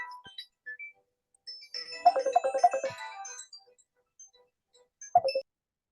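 A mobile phone ringtone plays a short melodic tune of bright chiming notes in a quiet room, faint at first, then a clearer phrase, and a final brief note after a pause.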